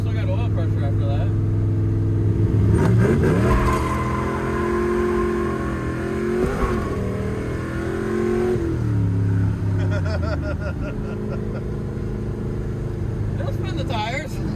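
A barn-find 1965 Corvette on new tires revs hard and accelerates through gear shifts, its engine pitch climbing and dropping repeatedly, loud and close, with voices in the car now and then.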